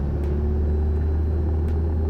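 Loud, steady low engine drone of a small propeller aircraft at full throttle, a constant heavy rumble with no pauses.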